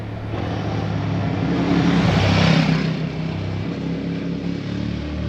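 A Royal Enfield Himalayan 450 and a CFMOTO 450 MT ridden on dirt: a steady, loud engine drone that swells as a bike passes close by midway, then eases back to a continuous hum, with no voices.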